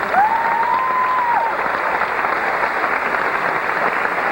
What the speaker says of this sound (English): Let's give a big round of applause to all of our ladies.